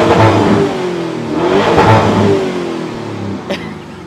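A 2023 Lamborghini Urus 4.0 V8 with Akrapovic exhaust revs hard and loud close by, rising and falling in pitch over a few seconds with no voices.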